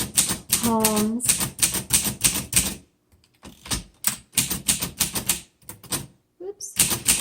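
A 1947 Underwood Universal manual typewriter is typed on up close, with rapid bursts of crisp key strikes broken by brief pauses and a carriage bell ding near the start.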